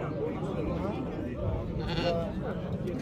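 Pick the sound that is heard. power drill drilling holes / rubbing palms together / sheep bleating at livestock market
sheep bleating at livestock market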